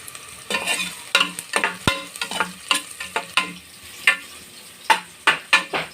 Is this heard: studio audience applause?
no